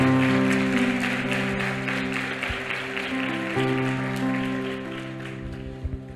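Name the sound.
congregation applause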